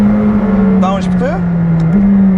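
A McLaren 765LT downshifts, a loud close engine note with quick rising blips as the gearbox drops gears, over a steady low drone.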